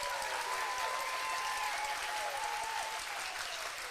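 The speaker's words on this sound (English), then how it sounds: "Let's give her a round of applause." Audience applause fills a steel band spring concert hall, a steady, dense wash of clapping that carries on evenly for the full stretch, with faint pitched tones from the stage ringing through it.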